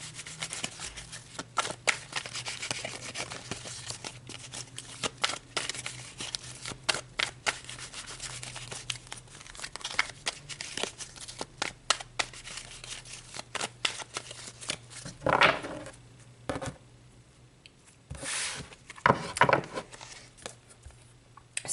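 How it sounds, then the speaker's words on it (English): A deck of tarot cards is shuffled close up, a long run of rapid papery riffles and slaps in uneven bursts, with a couple of louder riffles near the end, no voices. "So let's pull some tarot cards to get more information."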